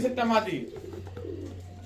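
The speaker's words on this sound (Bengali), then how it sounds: "এত বড় সাইজের কবুতর" A pair of large Kaldum pigeons coos up close, one rolling coo at the start and softer murmurs after it, with a voice mixed in.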